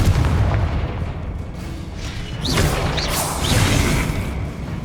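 Hogwarts Legacy spell blasts from Incendio and Confringo hit in heavy booming bursts with whooshing swishes, several impacts rolling one after another over a dense, rumbling battle backdrop.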